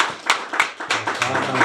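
A church congregation claps at a baby dedication: several loud, ragged bursts of many hands striking together, close by, with low voices murmuring under the applause.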